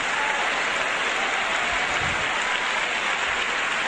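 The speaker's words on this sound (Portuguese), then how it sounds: "Aplauda ele, sirva ele" Sustained applause from a church congregation during a sermon, a dense steady wash of clapping hands filling the space throughout, without speech.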